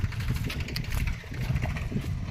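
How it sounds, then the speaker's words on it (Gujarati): A tractor engine rumbles steadily nearby in a black gram field, a low continuous idling drone without speech. "આમાં ટ્રેક્ટર આવી ગયું આગળ દોર્યું"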